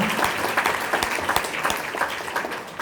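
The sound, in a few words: audience applause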